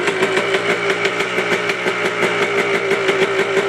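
A warmed-up ATV engine idles close by, smoking, with a loud, even, rapid pulsing beat that holds steady throughout and no talking over it.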